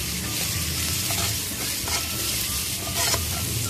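Spices being stirred into onions, garlic and ginger frying in a karahi pan for beef reshmi kabab karahi: a steady loud sizzle with scraping stir strokes, close up, no voices.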